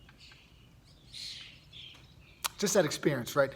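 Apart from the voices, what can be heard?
birds chirping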